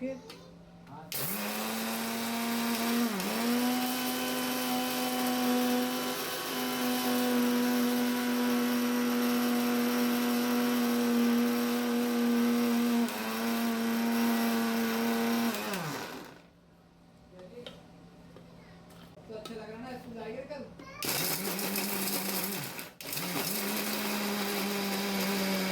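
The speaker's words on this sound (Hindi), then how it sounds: "यहाँ पर शक्कर में थोड़ी सी इलायची डालकर मैंने पीस लिए थे" A kitchen mixer grinder whirs loudly, grinding sugar with cardamom in a steady high motor whine that dips briefly, stops for a few seconds, then starts again.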